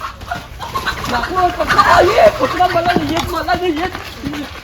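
Chickens cluck and chatter nearby, with several birds calling over one another in a busy, continuous stream.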